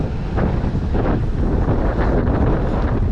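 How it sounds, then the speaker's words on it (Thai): Strong wind at the Cannes film festival buffets the microphone in continuous loud, rumbling gusts, dense and close throughout, with no voices audible. "ลมแรงมาก"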